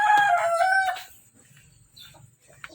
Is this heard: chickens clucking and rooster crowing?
yes